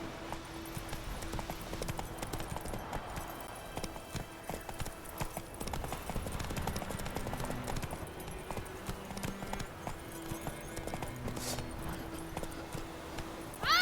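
Horse hooves clip-clop in a steady galloping rhythm in The Witcher 3, mixed with game music and ambient effects, continuous and moderately loud.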